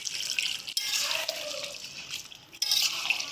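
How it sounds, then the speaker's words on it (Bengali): Warm water poured into chicken curry cooking in a pan, giving a steady splashing rush with a brief break partway, close and moderately loud. "এবারে দিয়ে দেবো উষ্ণ গরম জল।"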